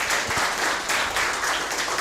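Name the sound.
audience applause for seminar speakers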